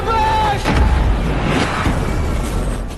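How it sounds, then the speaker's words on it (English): A deep, heavy boom rolls out and rumbles on for a few seconds, loud and dense with low-end roar. "A powerful explosion rocked the entire city."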